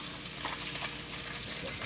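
Crappie fillets frying in a pan, a steady dense sizzle that holds evenly throughout with faint crackles and stirring over it.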